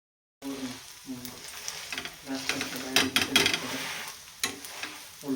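Egg-coated bread frying in a little oil over low heat: a steady close sizzle with scraping, spatula knocks and pressing sounds as the slices are turned.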